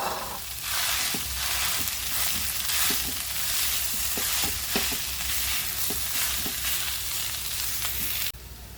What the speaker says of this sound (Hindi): आलू डाल के अच्छे से भुनेंगे